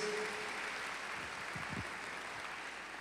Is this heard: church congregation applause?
yes